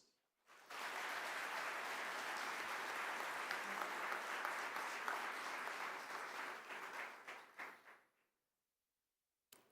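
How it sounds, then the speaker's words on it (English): Sustained audience applause at the Westford felicitation ceremony, starting abruptly, holding steady for several seconds, then thinning into scattered claps before falling silent. "you can give yourself a round of applause."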